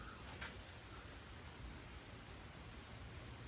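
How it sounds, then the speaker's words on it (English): Rain falling steadily outside a workshop, a soft continuous hiss with no breaks, faint and even throughout. "rainy day, rainy day."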